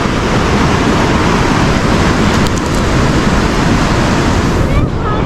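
Glacier meltwater rushing as a milky white stream on the road to Sonamarg, a loud, continuous broadband roar of flowing water mixed with wind buffeting the microphone.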